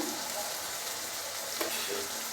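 A vegetable dish fries in a pan with turmeric and salt added, giving a dense, even hiss and a faint scrape or two from stirring, with no voices.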